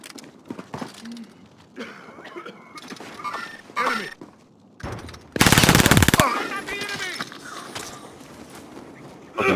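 Rapid automatic gunfire from a shooter video game bursts out loud in a dense rattling volley lasting about a second midway, with scattered shots and game sounds around it and excited voices talking over the action.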